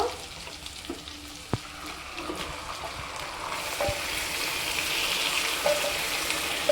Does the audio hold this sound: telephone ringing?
no